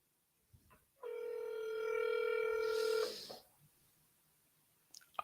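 A telephone tone sounds on a call, a steady multi-harmonic beep holding for about two seconds in a quiet room before cutting off, with faint handling noise around it.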